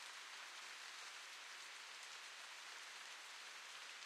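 Steady rain in the video game The Path falls outside Grandma's house as a dense, even hiss of drops on surfaces, continuous and unchanging throughout with no music or voices.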